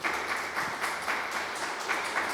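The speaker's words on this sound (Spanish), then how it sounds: "Dele un aplauso al Señor" A church congregation claps together during a Spanish-language sermon, a soft, somewhat rhythmic patter of many hands with gentle pulses, moderately distant and steady for a couple of seconds.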